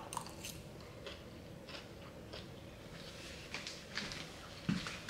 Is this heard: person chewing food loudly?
yes